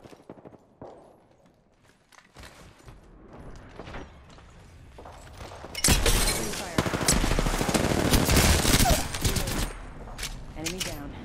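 Bursts of automatic gunfire from an Apex Legends match, quiet at first, then dense and loud rapid volleys for several seconds with shots fading near the end.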